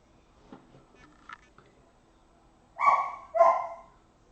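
A small, spoiled pet dog gives two close, sharp barks near the end, after a few faint yips and whimpers in an otherwise quiet room.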